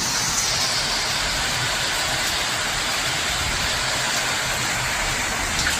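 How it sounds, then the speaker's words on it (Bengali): A dense, continuous roar of torrential rain, loud and unbroken, drowning out everything else. "এখন আর পাচ্ছি না তুলতে, কারণ বিশাল মুষলধারায় বৃষ্টি হচ্ছে।"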